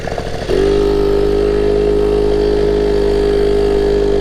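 A Solex 6000 moped engine starts and settles into a loud, steady, buzzing idle, close by and alone.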